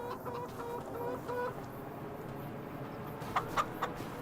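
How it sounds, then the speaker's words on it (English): A rooster in the Farming Simulator 25 video game gives a few short clucking calls near the end, rising over a steady bed of farmyard game ambience. "There's Ronnie the rooster."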